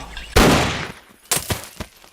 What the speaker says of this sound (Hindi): अब गोली चला दो।